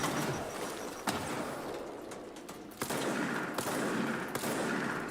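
Gunfire from a shotgun in the video game Control, heard as a few sharp, widely spaced blasts over a dense, steady game soundscape, with no one talking.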